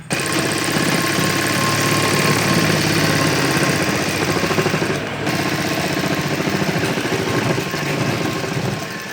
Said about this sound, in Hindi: एक मोरी से लेके दूसरी मोरी तक ये सीधी सिलाई लगानी है हमें